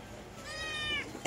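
A single short cat meow, close and clear, over a background of steady noise.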